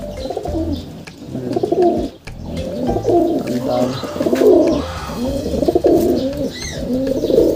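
Bruno, a six-year-old racing pigeon, coos close to the microphone in a steady run of soft, throaty, rolling calls that repeat with hardly a pause throughout.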